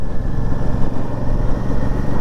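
Royal Enfield Classic 650 motorcycle being ridden on a road near a lake, a steady loud engine rumble with wind noise throughout, no speech.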